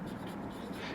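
Chalk or marker writing on a classroom board during a lesson, a faint, quick scratchy stroke lasting about a second.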